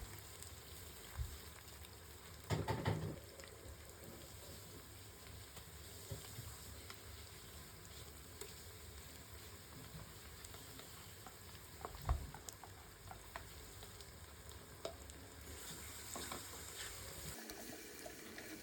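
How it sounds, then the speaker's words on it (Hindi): Garlic and ginger paste frying in oil for nihari crackles with a soft, steady sizzle throughout, with a few louder stirring clatters and scrapes heard nearby. "लहसुन और अदरक भुन चुका है"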